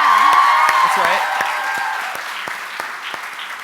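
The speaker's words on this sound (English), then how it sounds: "you can give a round of applause for Rue" An audience gives a round of applause for a youth award winner in Healthy Living at a 4-H youth rally, a dense steady clapping that fades slightly over a few seconds, with scattered voices and cheers mixed in.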